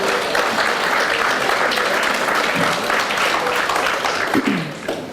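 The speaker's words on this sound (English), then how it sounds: "I'd like to give him a round of applause" Sustained applause from a crowd at a Christmas celebration, steady clapping throughout that tapers off slightly at the end.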